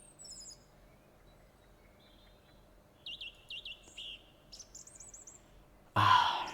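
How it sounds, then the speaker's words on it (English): Birds chirp in the video game The House in Fata Morgana, giving faint high tweets and short trilling calls over near silence before a louder, breathy sound at the end. "Ah, the chirping of birds."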